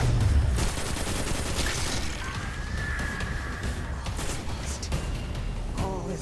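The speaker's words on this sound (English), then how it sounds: "Oh, I could use my auto rifle instead." An auto rifle fires in Destiny 2 Shadowkeep, a rapid rattling stream of shots that runs steadily for about six seconds among crashing impacts and tonal game effects, loud and busy throughout.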